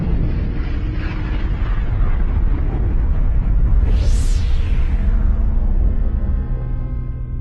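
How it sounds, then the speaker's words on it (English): Dramatic rumbling explosion sound effect for a supernova, a large star exploding outward: a loud, continuous low roar with a rising whoosh sweep near the middle, alone without talk. "they collapse under the weight of their own gravity, and then explode outwards"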